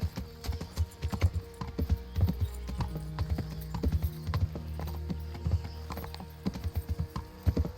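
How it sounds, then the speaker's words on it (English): A horse's hooves clip-clop in the medieval video game Kingdom Come: Deliverance, a string of hollow, uneven hoof strikes approaching close and fairly loud, with a brief whinny amid steady game ambience. "Come here, my trustworthy steed."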